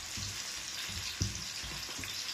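Onions frying in a pan for a beef dish, a soft steady sizzle with faint popping and crackling, close and fairly quiet.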